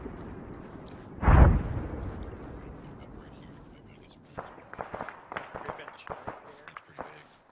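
Simulated indirect fire during airsoft platoon training: one loud close blast followed by a run of sharper popping bursts, with people talking now and then.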